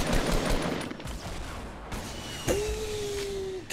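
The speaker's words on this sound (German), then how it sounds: "Hab ihn einmal angeschossen, zweimal angeschossen." Gunfire in Fortnite Battle Royale during a close fight near a wooden ramp: rapid bursts of shots, moderately loud, with a sharp tonal game sound near the end.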